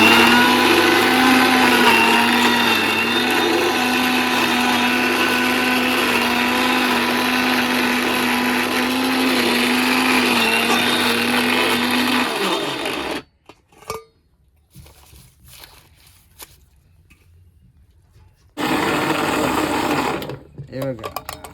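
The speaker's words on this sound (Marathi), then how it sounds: "मिक्सर चालू करून" A kitchen mixer grinder blending a watery home remedy for diabetes runs loud and steady with a high whining drone for several seconds, then stops and later starts again in a short burst.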